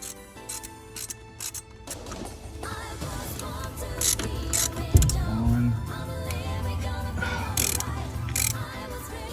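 A wrench loosens a bolt on an 80s Honda, with steady close ratcheting clicks running throughout, a heavy metallic clunk midway, and brisk, uneven bursts of turning afterward.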